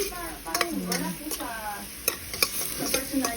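Garlic and onion sautéing together in a pan for sinigang, a constant sizzle punctuated by sharp clicks and scrapes of stirring, with some faint tonal background sounds but no clear speech.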